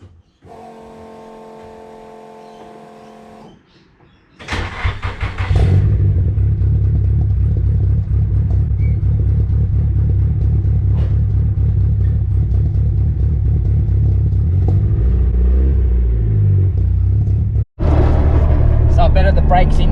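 A Nissan 180sx fitted with R33 brakes, new pads and rotors, starts up and drives steadily while the brakes are bedded in, giving a loud, close engine and road rumble after a quiet opening, with a brief cut near the end.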